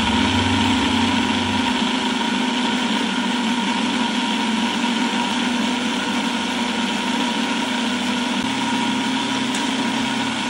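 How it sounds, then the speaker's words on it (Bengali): An electric blender runs continuously, blending green mango and cold water into juice with a steady high motor whine and a constant loud drone throughout, and no voices. "এখন ব্লেন্ডারটা অন করে দিলাম"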